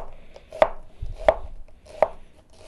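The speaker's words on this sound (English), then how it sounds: "And now instead of putting slices in it and chopping it, you're just going to come straight down." A knife cuts straight down through an onion onto a cutting board in three crisp, evenly spaced chops, close and clear with no talking.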